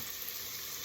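Chicken pieces sauté in a pan with garlic, ginger and onion for Filipino tinolang manok, giving a soft, steady sizzle of frying heard close, quiet and without talk.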